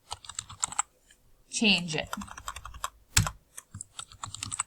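Keys on a computer keyboard clatter in quick irregular bursts while editing a spreadsheet, close and crisp, with a voice speaking briefly in the middle.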